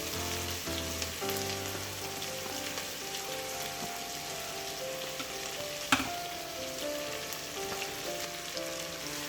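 Chopped onion and ginger hit hot oil with mustard seeds in a home kitchen pan while cooking bonda and onion pakoda, giving a steady, close sizzle and crackle with a sharp clatter near the middle and music tones underneath.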